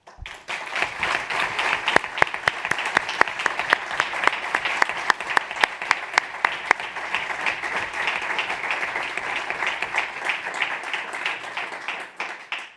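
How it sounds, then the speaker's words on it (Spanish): Sustained audience applause at an awards ceremony for research prizes, dense broadband clapping with sharp individual claps standing out, steady for most of the span before trailing off near the end. "Gracias por el aplauso."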